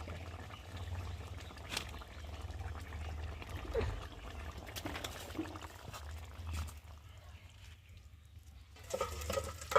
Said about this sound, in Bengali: আর এদিকে আমি ঢালতে থাকি।